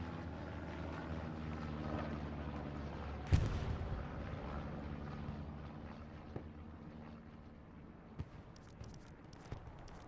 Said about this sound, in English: That first rocket hit right there.